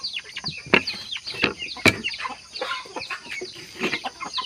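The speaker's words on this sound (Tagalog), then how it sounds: "Ito naman mga boss yung ating Burmese na brood hen." Burmese brood hen clucking in repeated short bursts at close range, with some louder sharp calls mixed in.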